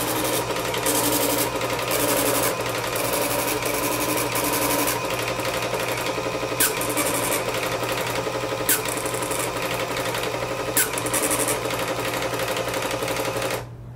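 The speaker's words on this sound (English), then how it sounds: "it will print out your readings." A small device printer prints out readings continuously, a steady whirring mechanical buzz with rhythmic pulses and a few sharp clicks, stopping abruptly at the end.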